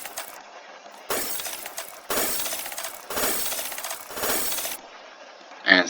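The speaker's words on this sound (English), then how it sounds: "Now for this echo thing, it's gonna sound like this" Echo sound effect built in Roblox Studio, a bright glassy clinking burst repeating four or five times at roughly one-second intervals, each hit decaying evenly, fairly faint with no talk.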